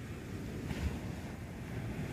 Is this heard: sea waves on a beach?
yes